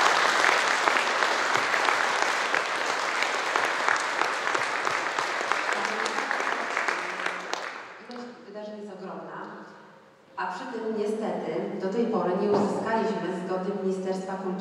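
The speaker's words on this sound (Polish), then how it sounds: "duże brawa, drodzy Państwo" An audience at a Polish school show claps in a loud, dense burst that lasts several seconds, then fades as a voice begins speaking.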